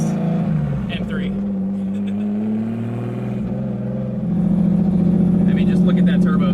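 A 1300 hp turbocharged BMW E46 M3 with a giant turbo on its S54 engine revs loudly and close, a deep droning note that drops and then swells again, with a voice briefly heard.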